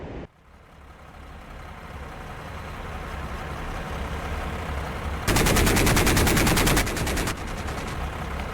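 A-10's GAU-8 Avenger cannon fires in the DCS combat flight game: a single loud, ripping two-second burst cuts in over a rising jet engine drone, then the engine continues alone.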